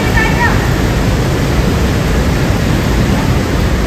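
A waterfall pours inside a dark cave in Pokhara, Nepal, producing a loud, dense, unbroken roar of rushing water that fills the space.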